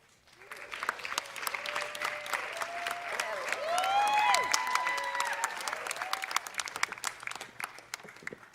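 Warm, sustained applause and some cheering from the audience at Rihanna's Super Bowl halftime news conference, swelling midway and tapering off, with an occasional voice and whoop in the crowd.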